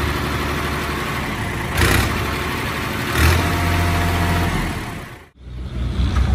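A Fiat 480 tractor, 2022 model, runs steadily at a close, loud idle, with two brief revs partway through. The engine then dips sharply, almost to silence, before picking up again.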